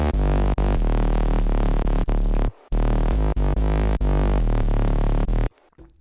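Deep, fat dubstep bass sounds made in Serum, layered with a heavy sub, hitting in loud, dense rhythmic bursts with two short gaps of silence.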